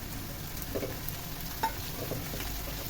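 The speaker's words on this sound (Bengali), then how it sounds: "এগুলো দিয়ে খুব সুন্দর করে ভাজতে হবে" Whole cinnamon, bay leaves, cloves, peppercorns and mace fry in hot oil in a pan, a soft steady sizzle with a few light stirring scrapes and one sharp clink, fairly quiet and alone.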